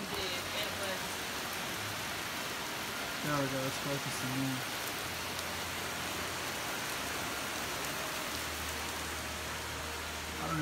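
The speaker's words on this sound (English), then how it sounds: "Oh, it's raining hard now." Heavy rain falls during a tornado watch in a severe tornado outbreak, a dense, steady hiss that runs throughout, with someone talking briefly over it.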